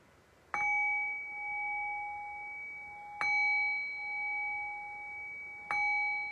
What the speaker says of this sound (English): I'll cue that by ringing the bell 3 times.